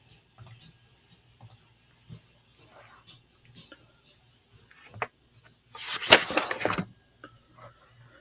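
Sparse mouse clicks while editing a spreadsheet in Excel 2016, soft single clicks spaced through the clip with a brief louder rustle of desk handling, no talk.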